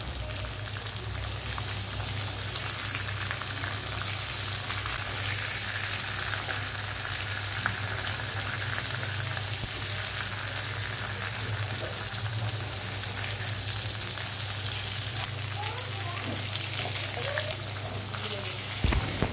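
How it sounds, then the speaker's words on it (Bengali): Marinated eggplant pieces fry in mustard oil in a pan, giving a steady, dense crackling sizzle like light rain that holds evenly from start to finish, close and unbroken, with no speech. "আমি একটা প্যানের মধ্যে সরিষার তেল দিয়ে বেগুনগুলোকে হালকা করে একটু ভেজে নেব"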